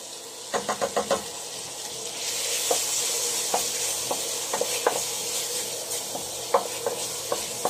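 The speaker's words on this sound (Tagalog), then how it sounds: "add natin yung ating corned beef" Corned beef hits a hot pan for a creamy mushroom pasta sauce, sizzling steadily while a utensil scrapes and taps in quick clusters, the frying growing fuller partway through.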